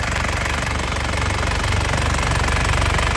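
A diesel-like engine idles with a rapid, steady knocking clatter, loud and close, continuous throughout.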